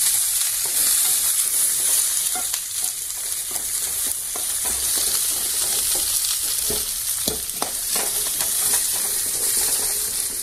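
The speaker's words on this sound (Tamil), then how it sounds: "நல்லா செவக்க வணக்கணும்" Onion, garlic and curry leaves sautéing in a little oil, a steady loud sizzle and hiss with occasional stirring scrapes and pops, no talking.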